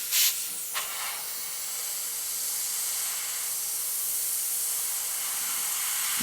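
Airbrush spraying a fast, dense stream of paint onto a test surface, a steady close hiss with a sharp burst at the start and a brief pop just before a second, then continuous airflow.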